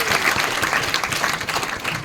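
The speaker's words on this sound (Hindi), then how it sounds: "ताली बजाओ।" An audience claps at a Hindi-language RCM business motivational seminar, a loud, close, continuous burst of many hands with uneven rhythmic peaks throughout.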